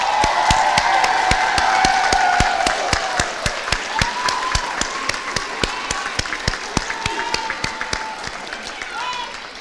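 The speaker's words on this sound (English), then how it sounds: "Let's give them one more round of applause" Audience applause for graduates at a 2019 high school equivalency graduation ceremony, a dense steady clapping that tapers slightly, with sharp individual claps standing out and some cheering and voices mixed in.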